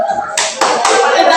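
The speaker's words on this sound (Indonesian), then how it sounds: "Tepuk tangan untuk temannya." Classmates clap after group presentations in a school classroom: a few close, sharp bursts of hand claps that swell into brief, loud clapping.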